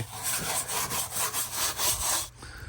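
A tool scrapes and brushes across a rough surface at a farm house, with quick, rhythmic back-and-forth strokes at close range that stop suddenly.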